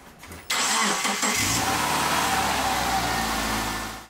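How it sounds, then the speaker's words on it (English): A car engine cranks briefly and catches after being jump-started from an 18V lithium battery, then runs loudly and steadily close by, with no talk. "This time the car starts with ease"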